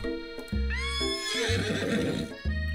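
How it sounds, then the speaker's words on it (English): Video game horse rearing up with a loud, close neigh and whinny, harmonic squeals rising and falling over about two seconds, ending in snorting breaths with no talk. "your sudden movements surprise the horse and it rears up, kicking you directly in the face"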